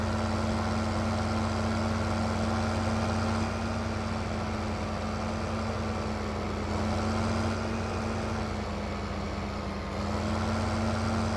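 A tractor pulling a seeder in a farming video game runs with a continuous, steady diesel engine drone and a strong low hum throughout, loud and close with no talking.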